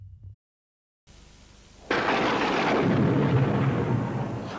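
A thunder crack bursts in after a brief silence and a low hiss, then rolls on as a loud, steady rumble for nearly three seconds in a 1980s or 1990s British TV snack advert.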